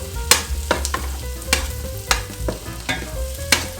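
Asparagus pieces cook in a pan and are stirred with a spoon or spatula, giving a run of sharp, regular clacks and scrapes about every half second over a low sizzle, close and fairly loud, with no talking.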